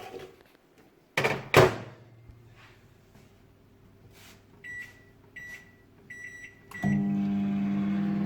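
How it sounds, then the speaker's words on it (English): A microwave oven set for one minute on high to heat a keto garlic-cheese bread mix with coconut flour: door thuds, a few short keypad beeps, then a steady close electrical hum starts and carries on alone. "we're going to put that into the microwave for 1 minute on high"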